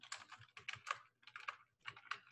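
Typing on a computer keyboard while writing data into a sample file, with bursts of quick, close key clicks separated by short pauses.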